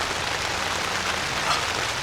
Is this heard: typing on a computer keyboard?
no